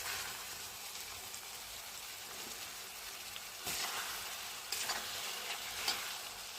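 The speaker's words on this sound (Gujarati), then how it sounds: "તો વ્યવસ્થિત રીતે આપણે શેડવી લઈશું એને." Peas, onion, coriander and green chilies fry in a pan while being stirred, a steady close sizzle with a few louder scraping stirs and brief spatters, no talking.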